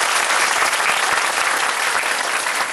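An audience at a business event breaks into loud, close, continuous applause, a thick wash of many hands clapping at once without pause.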